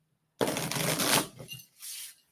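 Tarot cards shuffled by hand, a dense papery riffle lasting about a second, then a softer trailing shuffle and a brief second burst, close and clear with no talking.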